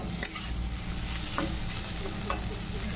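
Potatoes and beaten egg frying together in a pan for a quick potato-egg curry, with a steady sizzle and scraping stirs, close and continuous, with no voices.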